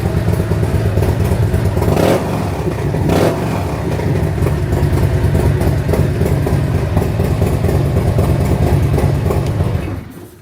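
A Harley-Davidson motorcycle idles in a garage, its exhaust making a loud, steady, close-up lumpy rumble with a couple of brief blips, then cutting off at the end.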